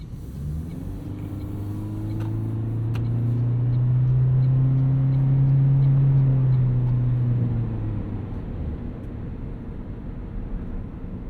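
Engine drone from a 2024 Toyota Prius AWD hybrid with a 2-liter engine while driving, a grainy hum that swells louder in the middle and fades back down, heard alone.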